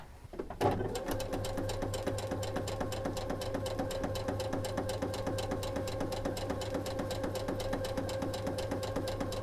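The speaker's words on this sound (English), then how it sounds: "So go ahead and stitch me a seam." Sewing machine stitching a seam in knit fabric for a kids' infinity scarf, a steady fast mechanical whir and rapid needle clatter running continuously and loud after a brief start.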